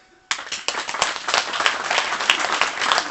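Audience applause following a Congolese ambassador's independence-day speech, breaking out sharply after a short pause and continuing as a dense, lively clatter of many hands.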